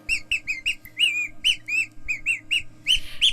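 A bird call whistle imitating a young, desperate bird gives a quick series of shrill, high chirps in an uneven rhythm, close and clear with no talking.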